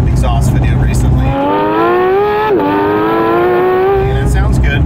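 From inside a 2022 Porsche 992 GT3 fitted with a Soul Performance exhaust, the engine note climbs steadily in a smooth rising drone. It dips briefly as the car shifts, then keeps building, with road noise before and after.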